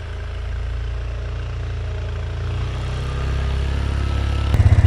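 An ATV quad engine runs steadily while pushing snow with a plow, a low continuous drone that swells slightly louder near the end with a brief pulsing rev.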